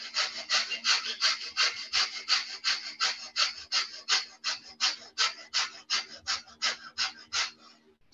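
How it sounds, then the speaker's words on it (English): Quick breaths pumped through the nose in a breath-work exercise: a rapid, steady run of over twenty short, sharp, airy puffs, close-up and rasping, with no talking. "And then our quick breaths will sound like this."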